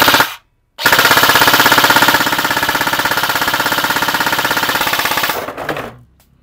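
A G&G airsoft rifle with an ETU fires on full auto in a long, loud, rapid rattle of mechanical cycling. A short burst comes first, then one sustained string that trails off as the magazine runs empty.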